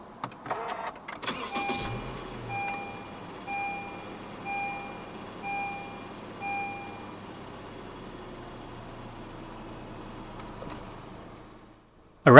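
A 2017 Honda HR-V 1.8 starts by push button with a brief cranking rumble, then a soft chime beeps several times while the engine settles into a low, steady idle.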